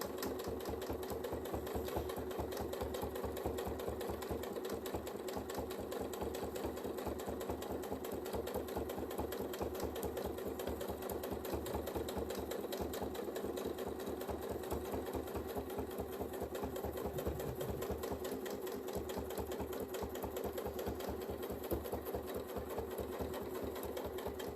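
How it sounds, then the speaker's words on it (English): A sewing machine runs steadily at a fast, even stitch rate during free-motion quilting, a continuous close hum with rapid needle clatter and no voices. "Jeanette Mitchell, this is Free Motion, so the stitch length is actually me."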